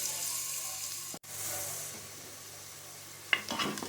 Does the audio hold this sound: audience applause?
no